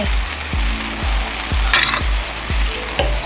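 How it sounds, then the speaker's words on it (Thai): Garlic frying in hot oil in a pot, a loud continuous sizzle and crackle with rhythmic scraping stirs about every half second, close up and without talk. "มันจะหอมกระเทียมเจียวด้วยนะ"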